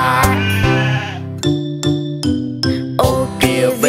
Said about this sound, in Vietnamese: Ô kìa cừu, ta nói xin chào, và cừu nói với vịt ta ba.